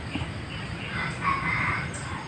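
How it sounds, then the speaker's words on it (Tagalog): A red junglefowl calls outdoors with a short rooster-like crow, moderately near, over a steady background hiss with no speech. "Yun labuyo, yun labuyo."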